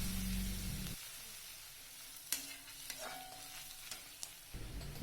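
Onions, green chillies and curry leaves sautéing in hot oil for a Tamil cabbage and egg poriyal, a soft steady sizzle with a few scraping stir clicks and a louder burst at the start and end.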